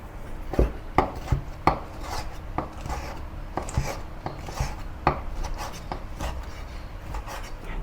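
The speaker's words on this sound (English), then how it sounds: "these shrimps are a little bit big, so I'm going to cut it into smaller pieces" A knife chops large shrimp into smaller pieces on a cutting board for Chinese spring roll filling. The close, irregular thuds and taps come one or two at a time, with short scraping rubs between the cuts.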